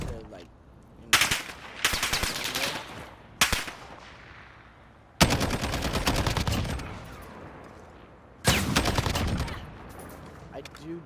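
Automatic fire from an FN SCAR-17 rifle in a video game comes in several loud, close bursts of rapid shots with echoing tails. Someone talks quietly between the volleys.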